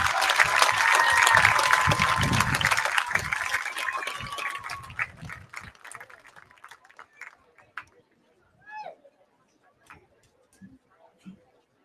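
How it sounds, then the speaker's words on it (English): A crowd at an 8-man football all-star game claps loudly for student athletes, and the dense applause fades out after about five seconds into scattered quiet sounds. "Everyone could give these student athletes a round of applause for all of their accomplishments."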